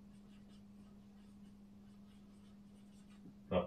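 Faint scratching of a pen on paper as numbers are written out, heard over a steady low electrical hum, with a brief louder knock right at the end.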